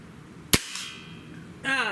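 A Feinwerkbau Sport breakbarrel air rifle fires one short, sharp crack, followed by a faint ringing as the pellet strikes a shotgun shell target. A voice starts at the end.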